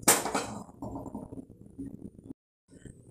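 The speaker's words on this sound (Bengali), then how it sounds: "কড়াই বসিয়ে দিলাম" A metal wok set down on a kitchen stove gives a sharp clank at the start, then a ringing metallic rattle that fades over a couple of seconds, followed by a brief silence and faint kitchen sounds.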